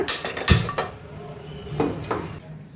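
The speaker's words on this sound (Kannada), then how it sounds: "ಗ್ಯಾಸ್ ಮೇಲೆ ಒಂದು ತವಾನ ಇಟ್ಕೊಳ್ಳೋಣ." A metal tawa pan is set down on a gas stove, giving a couple of sharp clanks followed by lighter clinks and scrapes, close and fairly loud.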